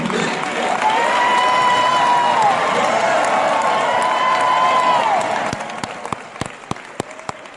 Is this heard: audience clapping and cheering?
yes